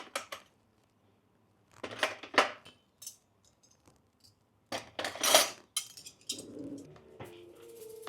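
Cutlery clinks and rattles as it is picked up and handled in a kitchen, with scattered bright metallic taps in short bursts between pauses and a soft bird coo in the background.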